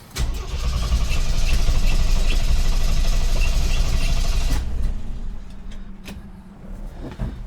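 A 1958 Cadillac engine cranks on the starter and catches, running loud and rough for several seconds before cutting out abruptly and leaving faint clicks and quiet rustle.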